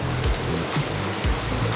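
Rushing water at Grays Hollow Falls in Cape North, Cape Breton, a steady broadband roar filling the whole short stretch, close and loud, with no talk.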